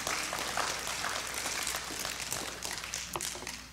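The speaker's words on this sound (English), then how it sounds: "Now you can clap." A church congregation breaks into steady, continuous clapping during a sermon, a moderately loud crowd of hands sustained for almost four seconds with no voices standing out.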